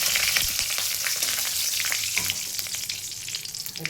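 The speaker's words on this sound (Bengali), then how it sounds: "এখন সব ফোড়নে দেব, তেজপাতা, শুকনো লঙ্কা, গরম মশলা" Bay leaf, dry chilli and garam masala fry in hot oil as tempering for a mutton curry, giving a steady, close crackle and sizzle with scattered pops.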